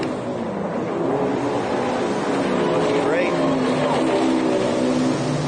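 Monster Energy sponsored race boat on a powerboat racing course in Morgan City, Louisiana, roars past in a loud steady engine drone over water noise, while a commentator talks over it briefly.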